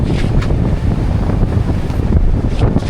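Strong wind buffets the microphone on a sailboat running fast with a reef in, a loud, continuous gusty roar mixed with rushing water, with no talk.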